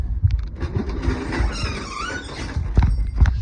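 Old double entry doors being closed, with creaks and squeaks of hinges and thuds as the doors swing and meet, irregular and fairly close.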